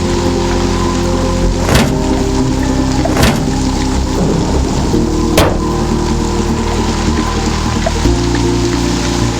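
Steady heavy rain pours down while loud cracks of thunder break through three times, each a sharp close burst over the constant downpour.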